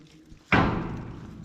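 One loud clanging hit lands on a heavy, solid metal door inside a jungle military bunker, followed by a long echoing ring that fades slowly.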